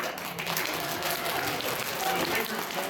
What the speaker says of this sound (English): I would like everyone to clap like that.